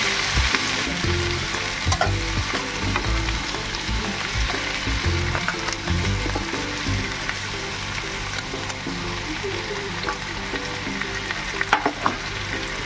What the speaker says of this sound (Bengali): এবার সবগুলোকে আবারও আমি ভালো করে ভেজে নেব